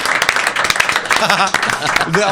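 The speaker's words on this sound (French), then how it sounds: "on peut vous applaudir" Applause and clapping from a crowd mix with talking and laughter, dense and lively for a couple of seconds.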